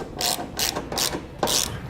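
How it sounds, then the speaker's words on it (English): A ratchet with a 3/4 inch socket tightens hitch bolts on a Curt trailer hitch receiver on a 2018 Toyota Corolla, giving four quick, close clicking bursts with short pauses between, and no voices. "Now we'll take our 3/4 inch socket and tighten all of our hardware down."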